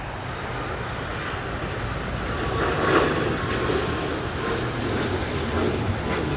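Qantas airliner on an unusual approach to land on runway 25 left at LAX: a broad, rumbling jet engine roar that swells toward the middle and holds steady, heard from a distance at the airfield.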